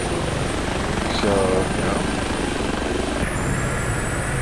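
Steady rotor and turbine drone of an Airbus H145 helicopter in X-Plane 11 flight simulator, constant and loud, with someone briefly speaking over it.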